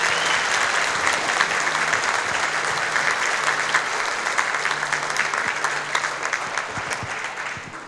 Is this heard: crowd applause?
yes